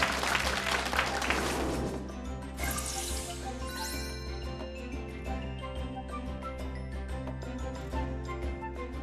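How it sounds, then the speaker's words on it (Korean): Studio audience applause welcoming an architect onto a lecture-concert stage, dense clapping loudest at the start and continuing steadily throughout over sustained background music. "감은희 소장님을 박수로 맞아주세요."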